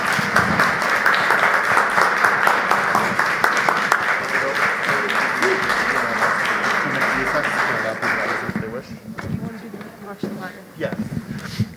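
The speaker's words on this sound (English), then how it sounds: "If we can have one final round of applause for all of our honorees." An audience at a school district board of education meeting applauds honorees with sustained, dense clapping that fills most of the stretch before tapering into scattered claps, with a voice speaking as it fades.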